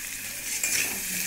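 Fried potato pieces being sautéed in a pan with salt and turmeric give off a steady soft sizzle and scraping stir for about a second, ending in a brief louder scrape.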